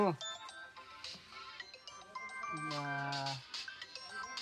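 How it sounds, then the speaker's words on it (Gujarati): A phone ringtone plays as a short melodic jingle with a rising tone sequence, heard faintly over people talking in a Gujarati comedy scene. "ફોન આવ્યો પાછો."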